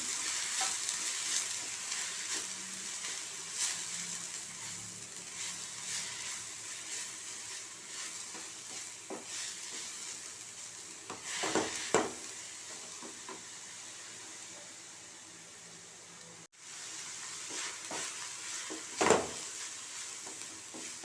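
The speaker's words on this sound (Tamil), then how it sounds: "புதினா கொஞ்சம் வதங்கிடுச்சு. இப்போ ஒரு கைப்பிடி அளவுக்கு தேங்காய் துருவல் சேர்த்துக்கலாம்." Mint leaves and grated coconut sauté in a pan with a steady, soft sizzling crackle, broken by scattered clicks and scrapes of stirring, close and alone without any voices.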